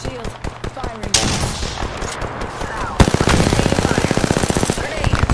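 In a video game firefight, rapid automatic gunfire crackles in fast bursts, some near and loud, building to a sustained stream of shots, while a player talks over it.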